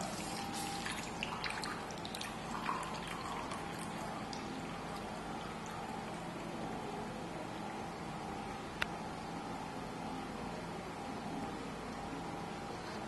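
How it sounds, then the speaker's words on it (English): Water poured from a bottle into a cup, a steady trickling splash with a few drips at the start over a constant background hiss, close and soft. "let's empty the water in this bottle into this empty cup"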